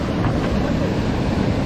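Ocean waves and surf wash steadily along the Omani coast during shore fishing, a dense, continuous rush of water with wind buffeting the microphone throughout, and no voices.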